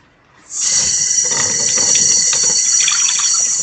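Tap water gushes steadily from a faucet into a container for a new sourdough starter, starting abruptly with a loud, continuous rushing hiss that runs unbroken to the end, with no talk.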